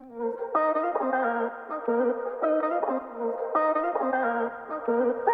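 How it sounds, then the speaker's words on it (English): A looped vocal sample sings short melodic phrases that repeat in a cycle, soft and echo-tinged, with no accompaniment. "the last sound for this remake is this vocal loop that I found on Splice"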